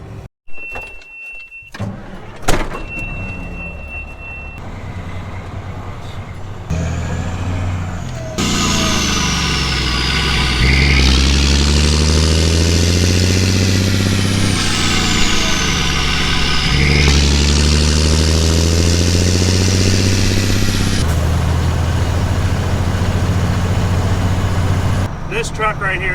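A farm truck loaded with about 150 bushels of harvested beans idles with a steady mid-pitched engine rumble that grows louder and continuous after a quieter start, joined by a person talking nearby.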